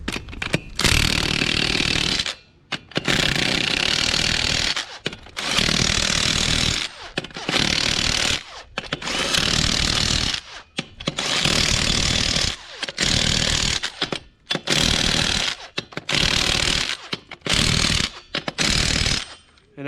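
Impact wrench hammering lug nuts on a Kubota tractor wheel, loud close rattling bursts of roughly a second or two each, separated by short pauses, with no talk.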